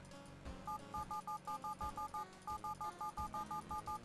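A long telephone number is dialed in the horror video game World of Horror, a brisk, even sequence of many separate touch-tone beeps over a quiet, humming background.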